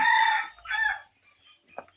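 A bantam chicken at a bird park in Bang Sai, Ayutthaya, gives a short crow followed by a couple of brief clucks, fairly close and clear, with no talking.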